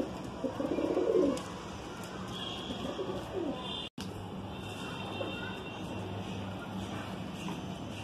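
White Madrasi pigeons coo at low level in a continuous soft murmur under a steady background hum, with a brief louder flutter near the start and a momentary dropout midway.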